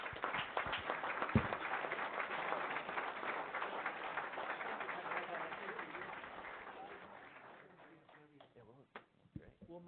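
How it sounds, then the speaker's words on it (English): Attendees at a city council meeting give a round of applause, dense clapping loud at first and then thinning out to a few scattered claps as it fades. "Let's give them one more round of applause"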